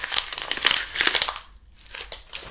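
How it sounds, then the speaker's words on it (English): Sheet of paper being crumpled, ripped and crinkled by hand, dense crackly bursts close up, pausing briefly before more crinkling resumes. "Let's do some of that with our paper. So you're going to crumple,"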